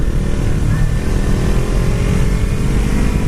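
A Kawasaki Ninja 300 motorcycle on stock tires rolls downhill into a blind turn on twisty roads, its engine a steady, close, loud drone mixed with heavy wind rumble throughout.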